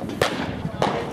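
Two sharp rifle reports from a Winchester .308 firing RazorBack XT ammunition at a reactive target on an outdoor range, spaced about half a second apart and loud against background noise.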